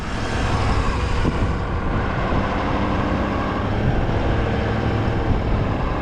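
A 4x4 truck drives across beach sand on RBP Repulsor RT tires with four-wheel drive engaged and rear lockers on, giving a steady, loud, broadband roar of engine and rolling noise with no pauses.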